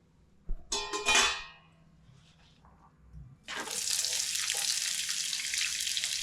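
Onions dropped into hot oil for a fish masala curry begin frying with a sudden, loud, steady sizzle that follows a few short clatters and splashes, with no talk.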